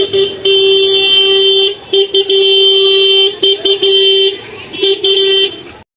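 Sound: busy traffic with car horns on a narrow road

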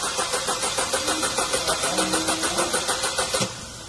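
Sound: car engine cranking with starter motor

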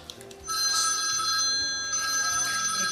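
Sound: telephone ringing

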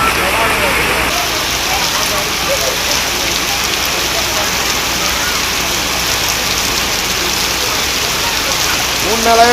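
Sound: rain in Thirumayam

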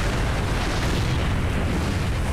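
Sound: explosions in the video game Resident Evil 4

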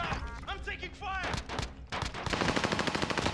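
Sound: gunfire in the video game Call of Duty

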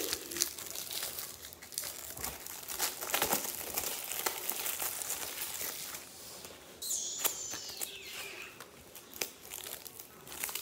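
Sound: crinkling wrapper of a Flair baseball card pack being opened

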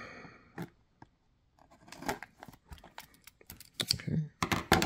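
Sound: scissors cutting open One Piece card booster packs

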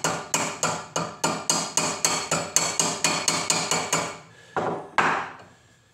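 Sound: hammer knocking sharp corners off a copper cup handle

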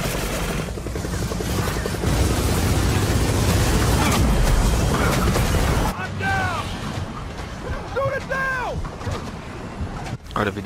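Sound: helicopter in the video game Gears of War 4

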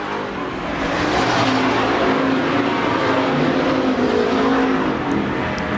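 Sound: pure stock race cars racing around speedway

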